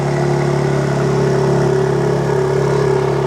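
A BMW G82 M4 engine on a cold start idles loudly and steadily, a rowdy, even drone with a strong low hum and no revving, close by and heard alone.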